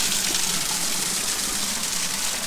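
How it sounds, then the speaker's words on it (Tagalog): Water gushes steadily through an irrigation channel on the Batad rice terraces in Ifugao, a close, loud and continuous rushing wash with no pauses. "Ito ang irrigation dito."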